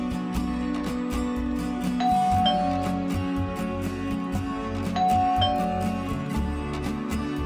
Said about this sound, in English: Now have more options with the MyDoor smartphone doorbell.